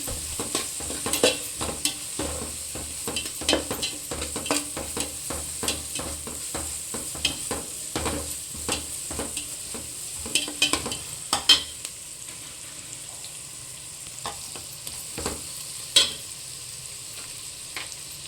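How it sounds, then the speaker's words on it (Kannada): Ginger-garlic paste fries in a pan while being stirred for egg fried rice. A steady sizzle runs throughout, broken by frequent sharp clicks and scrapes from a utensil against the pan. "ಶುಂಠಿ ಬೆಳ್ಳುಳ್ಳಿ ಪೇಸ್ಟು ಚೆನ್ನಾಗಿ ಫ್ರೈ ಆಗಲಿ."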